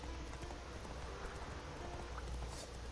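Horse hooves clop in The Witcher 3, a soft steady patter of steps on a path heard under low ambient game background noise, faint and without talk.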